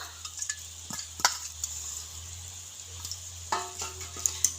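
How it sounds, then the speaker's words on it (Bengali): Small shrimp for chingri bhuna are tossed into a pan with a little water and stirred: a utensil scrapes and clinks against the pan in scattered sharp taps over a quiet background hiss, close and fairly soft. "তো এখন আমি দিয়ে দেব কুচো চিংড়িগুলো"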